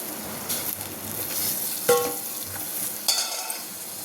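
Curry leaves hit hot oil for a drumstick tomato curry, giving a bright, steady sizzle. A few sharp stirring clinks and scrapes sound close by, and no one speaks.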